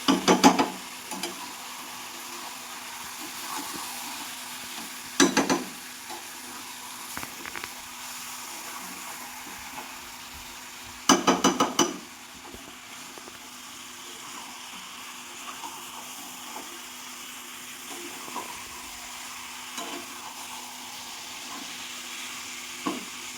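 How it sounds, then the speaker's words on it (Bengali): Mutton curry with potatoes is stirred in a pan, with a few bursts of scraping and clattering from the spoon over a low, steady simmering sizzle. "ভালো করে নাড়াচাড়া করতে হবে"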